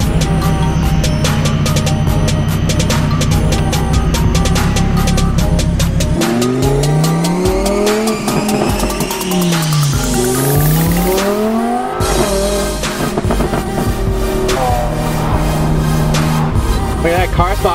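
Eleven Koenigsegg sports cars rev and drive together, loud and close, with engine notes rising and falling in sweeping pitch runs, a fast upward whine near the middle, and a steady dense roar throughout.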